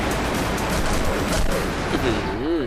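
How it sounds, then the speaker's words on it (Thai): Rapid gunfire from the Crisis Action shooter game, a dense continuous burst of shots that fills the whole stretch, close and loud, with a voice briefly audible near the end. "เนี่ยมันยิงเข้าหัวแบบรัวๆเลยฮะมันแรงมากอ่ะ"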